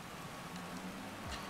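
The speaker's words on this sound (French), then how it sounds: "Ageda sous la pluie, ça faisait longtemps qu'on n'a pas eu un peu de pluie" Rain falls on the Agueda motocross track in the MXGP 2020 video game, a soft steady patter with no voices.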